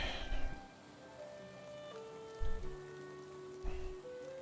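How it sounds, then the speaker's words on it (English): Rain patters steadily on surfaces in the survival game Valheim, a soft continuous wash beneath tonal game music and a few low thumps. "it's being rained on, and the rain destroys building materials"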